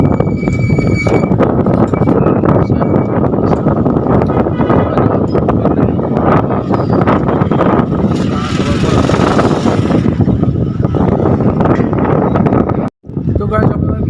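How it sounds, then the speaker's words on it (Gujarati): Strong wind buffets the microphone outdoors in Gandhinagar, making a loud, continuous rumbling roar that holds steady throughout and cuts out briefly near the end. "તો ગાઈસ આપણે બેઠા એવો પવન મસ્ત આવે."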